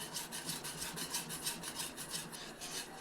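Wheat flour batter for malpua is whisked by hand in a bowl, giving a quick, even run of soft scraping strokes close by, with no talk.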